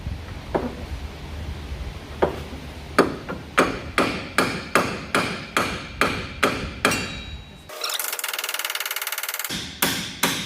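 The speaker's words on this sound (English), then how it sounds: "I'm hitting on the metal bushing, the bushing that goes where the bolt goes through" A hammer strikes the metal bushing of a car control arm on a 2015 Infiniti Q40, ringing out in a series of sharp, evenly spaced metallic blows that speed up into a steady rhythm, close and loud, followed by a brief burst of grinding noise.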